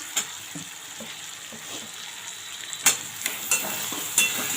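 Capsicum and tomato are stirred into frying masala for a broccoli curry, a steady sizzle with occasional sharp spatula knocks against the pan, close and without talk.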